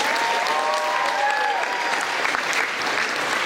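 Steady applause from an audience at a high school freshman orientation, a dense even patter of clapping that fills the whole stretch with no pause.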